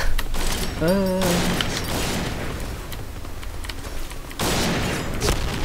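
Bursts of AK rifle fire in the Point Blank first-person shooter game, dense crackling shots running through most of the stretch with short louder volleys, mixed with game sound effects and faint background talk.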